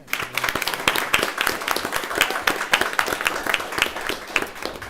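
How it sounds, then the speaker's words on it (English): A small group gives a round of applause at a regular school board meeting, sparse individual hand claps distinct and close, irregular and sharp, continuing steadily without voices. "I would like us to join again in a round of applause in congratulating them on this strong accomplishment."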